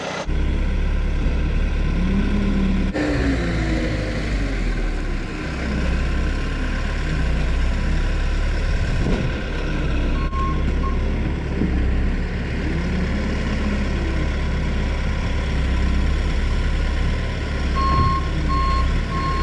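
Farm machinery runs steadily while loading a dung spreader with wet muck, a continuous close engine drone with intermittent reversing beeps.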